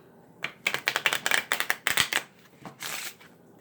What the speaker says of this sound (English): when you do the shuffle, I'll do this slowly